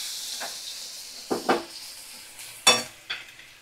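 Spices stirred in a hot pan while preparing a bora (fritter) dish: a soft steady sizzle runs throughout, broken by a few short, sharp scraping strokes of a spoon against the pan.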